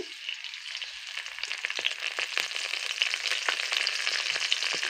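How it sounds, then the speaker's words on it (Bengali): Garlic and curry leaves sizzle in hot oil for a baby jackfruit fry, a steady crackling hiss with scattered sharp pops, close and continuous, no voices. "তেলটা গরম হয়ে গেছে রসুনটা দিয়ে দিচ্ছি কারি পাত্তাগুলো দিয়ে দিচ্ছি"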